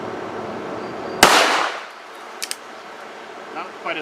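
A Cimarron-Uberti Schofield No. 3 top-break revolver loaded with .38 Special fires a single sharp, loud shot, with a short ringing tail and a couple of faint clicks afterward.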